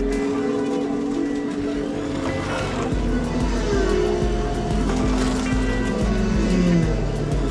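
Slot cars whir around a toy racing track at a 16th birthday race, a steady buzzing motor drone with repeated clicks and rattles as the cars pass, continuous and close throughout.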